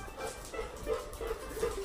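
Dogs at home give faint, muffled barks and whimpers, several short yips and whines in a quiet room with no talk.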